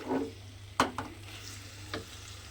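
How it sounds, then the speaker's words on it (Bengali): Taro leaves stirred in a pan, a few soft scrapes and knocks of a utensil over a faint low hum and gentle background sizzle, quiet and close. "ঠিক এইভাবে নেড়ে নেড়ে একটু রান্না করে নিতে হবে"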